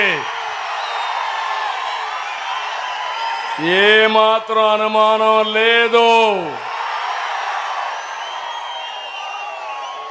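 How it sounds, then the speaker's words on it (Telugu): A large political rally crowd roars, cheers and whistles at close range, swelling into a loud burst in the middle, while someone speaks through a loudspeaker before and after it. "మీ కేరింతలు మీ ఈలలు మీ చప్పట్లు చూస్తూ ఉంటే"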